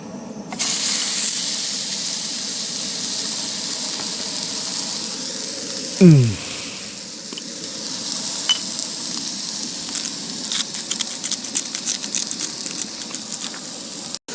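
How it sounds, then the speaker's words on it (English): A king prawn, chicken and chorizo paella sizzles loudly in a pan at a wild camp in the Cairngorms, a steady close hiss with brief stirring clatter and scraping. "Are we about ready for the sizzle, do you think, mate, or what?"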